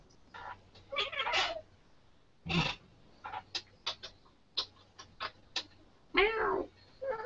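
A cat meows repeatedly up close, with short chirps and longer drawn-out cries spaced irregularly over several seconds, a faint low hum beneath.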